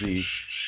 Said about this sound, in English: you're going to hear the bird in the background